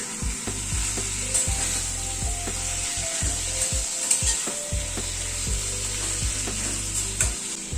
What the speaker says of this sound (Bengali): চিকেনের সাথে টমেটোটাকেও অ্যাড করে দিলাম।